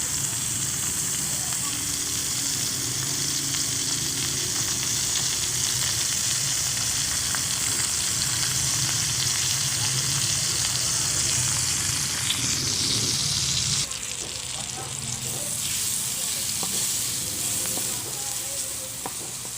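Corned beef sautéing in melted margarine in a pan, a continuous loud sizzle with occasional stirring scrapes, easing slightly toward the end.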